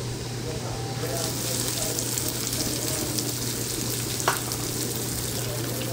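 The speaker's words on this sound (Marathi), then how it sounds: "आता याच्यामध्ये बारीक कट केलेला कांदा घालायचा आहे" Finely chopped onion drops into garlic frying in a pan for a Maharashtrian sandge rassa curry, giving a continuous loud sizzle with a steady low hum beneath and one brief clink of a utensil.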